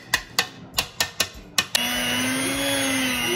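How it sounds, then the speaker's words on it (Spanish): An electric hand mixer clicks and taps several times against a bowl, then whirs up to a steady high motor whine as it beats chiffon cake batter of flour, oil, vanilla and baking powder, close up with no talking. "lo voy a batir con la batidora."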